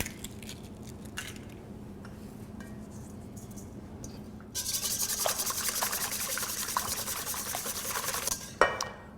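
Four eggs with a pinch of salt being whisked, a steady scraping rub in a bowl that grows louder and busier partway through, with no talking.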